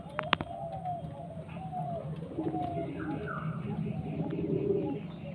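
Pigeons from a breeder's loft coo in low, repeated rolling calls, fairly close, with a faint chirp or two and light background rustle; a voice speaks briefly over them.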